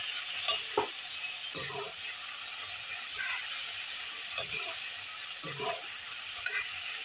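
Water hyacinth flowers stir-fried in a pan give a steady loud sizzle throughout, with a spatula scraping and clattering against the pan every second or so, close by and with no voices.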